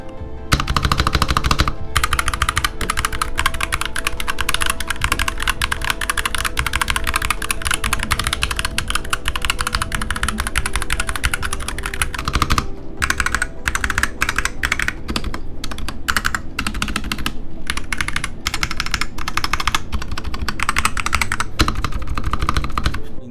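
Fast, continuous typing on a Logitech Pro X 60 keyboard, with dense clacking keystrokes and a few brief pauses, close and loud with no voice over it.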